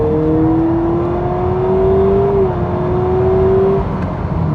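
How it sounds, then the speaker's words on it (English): Engine of a 2026 Honda Prelude in sport mode heard from inside the cabin, a smooth rising drone as the car accelerates, then a brief dip and settling, moderately loud. "if I step on it, yes, there is a bit of engine sound coming into the cabin"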